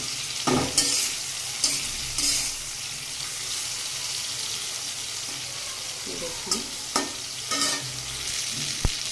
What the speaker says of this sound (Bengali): দেখুন কচুটা কিন্তু বেশ ভালো করে কষানো হয়ে গিয়েছে।